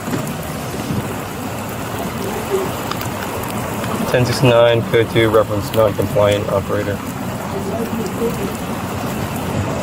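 Steady rain patters and hisses throughout, with a voice talking over a radio partway through.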